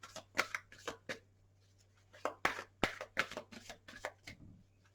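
Tarot cards are shuffled in several quick riffling bursts with short pauses between, close and fairly quiet.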